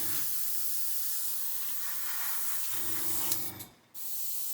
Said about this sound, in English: Spraying it nice and gently.